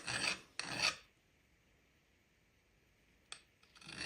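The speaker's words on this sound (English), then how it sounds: "Hold it at a pretty steep angle and just take all the burrs that inevitably come from the hacksaw." A file rasps across the hacksaw-cut end of a brass rod to remove burrs, two short close strokes, a quiet pause, a faint tap, then another stroke beginning.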